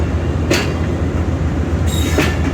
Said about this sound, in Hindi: आई थिंक मिल्लत है, that must be Millat express